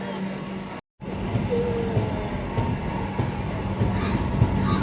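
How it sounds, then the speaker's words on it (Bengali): The Vivek Express, on its Dibrugarh to Kanyakumari run, pulls out of Bhadrak station with a steady rolling rumble and faint wheel clatter from on board, broken by one brief dropout near the start. "এই হচ্ছে ভদ্রক স্টেশন থেকে ছেড়ে দিল।"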